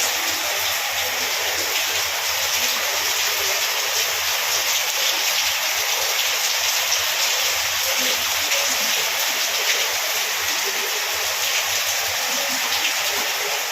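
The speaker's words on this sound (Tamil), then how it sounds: "ஈவினிங் செம்ம மழை பெய்யுதுங்க" Heavy evening rain pours steadily over Chennai, a dense, continuous hiss of water close by that stays loud and even throughout with no break or voices.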